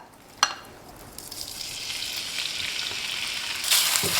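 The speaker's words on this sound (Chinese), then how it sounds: "锅中放油，油热后放入猪肉馅儿" Half a jin of minced pork dropped into hot oil in a wok, starting with a sharp clack and rising into a steady, building sizzle that grows louder toward the end.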